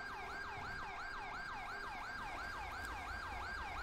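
Ambulance siren in GTA 5 during a police narcotics raid mod, a steady rapid wail cycling about every quarter second, loud and continuous with no talk over it.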